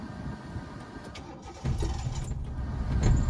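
A car engine cranks and catches during a driving lesson on a narrow street after stalling, a low rumble swelling to a steady idle partway through, heard from inside the car.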